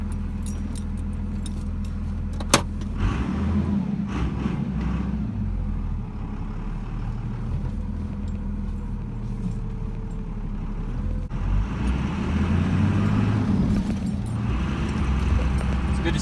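Jeep XJ with a Cummins diesel swap, keys jangling sharply at first, then a steady diesel engine rumble and idle drone running continuously throughout, loudness building slightly toward the end.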